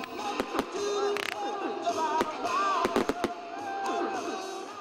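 Fireworks pop and crackle in sharp bursts on a riverside embankment, several bangs in quick succession over a low murmur of onlookers.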